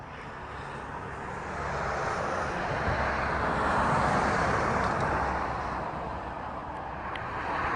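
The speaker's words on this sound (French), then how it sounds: "je vois pas mal d'avions de Bruxelles Airlines qui sont à moyenne altitude ici au sud de Charleroi" A Brussels Airlines airliner passing overhead at medium altitude south of Charleroi gives a broad, steady jet roar that swells toward the middle and slowly fades, distant and alone without talk.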